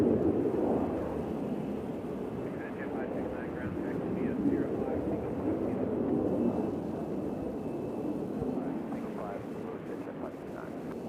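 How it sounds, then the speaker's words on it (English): A jet airliner that just landed at Nashville International Airport, arriving from Sarasota, makes a loud, steady engine roar that fills the whole stretch, with people talking over it. "Why is that plane making so much noise?"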